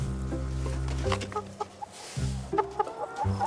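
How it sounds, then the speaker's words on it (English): A flock of organic chickens on a farm clucks nearby, with overlapping low, throaty calls and short rising squawks in an uneven rhythm. "Cedric Bell raises a flock of organic chickens"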